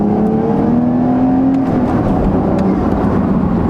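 A Porsche 992 911 Carrera S with a manual gearbox accelerates, its engine note climbing steadily and then holding a loud, continuous roar with road and wind noise.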